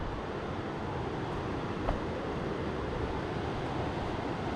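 Water rushes near Moose Jaw Falls as a steady, broad hiss, fairly faint and unbroken, with no talking over it.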